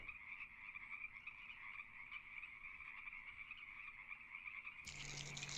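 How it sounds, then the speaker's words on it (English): Frogs croaking in a marsh, a dense continuous chorus of trilling calls at an even level throughout, joined by a brief brighter burst of noise near the end. "we're going to go with the frogs and everything. Marsh sounds."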